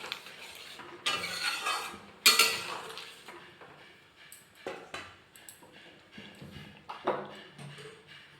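Shukto curry with eggplant, raw banana, bitter gourd and bori, after sugar is added, is stirred in a pot, giving short, uneven metallic scrapes and clinks of a spoon against the pot, close and fairly quiet, with no talking.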